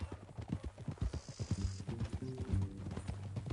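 Horse hooves clip-clopping in Red Dead Redemption 2: close, rhythmic steady hoofbeats, moderately loud, with faint mechanical creaks and a brief hiss alongside.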